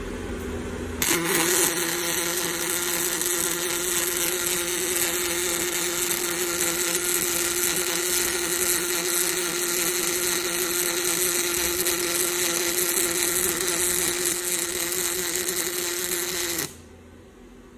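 A Fanuc welding robot runs a weld at 20 inches a minute, giving a steady, loud buzzing hiss that holds evenly for about sixteen seconds and then cuts off abruptly.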